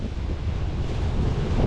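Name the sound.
wind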